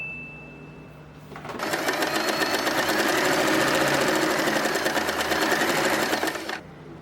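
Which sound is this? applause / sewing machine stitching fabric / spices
sewing machine stitching fabric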